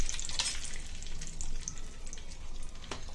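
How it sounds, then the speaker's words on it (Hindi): Fish frying in hot oil for a Konkani seafood meal, with a close, crackling spatter of popping bubbles and sharper pops now and then over a steady fizz. "अभी इसी तेल में, गरम गरम तेल में मच्छी फ्राई करेंगे"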